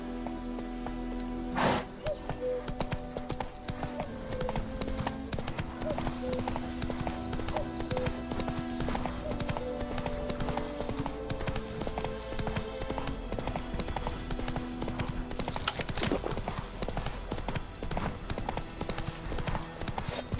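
A horse gallops in The Witcher 3, its hooves pounding in a fast, even rhythm throughout, loud and close, with a faint snort or whinny near the start.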